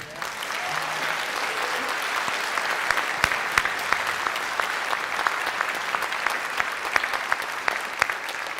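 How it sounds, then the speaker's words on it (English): Sustained audience applause for the musicians of a wind symphony at a spring concert, a broad wash of clapping from a full hall at a steady level, with a few louder claps close by. "How about another round of applause for these musicians?"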